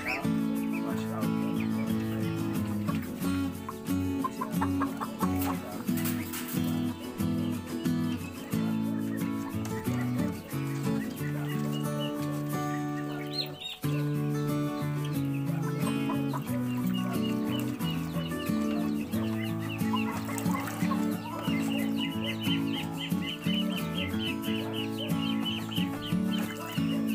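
Rhode Island Red chickens on a free-range farm cluck and chatter continuously around a coop being disinfected, a busy steady flock sound throughout.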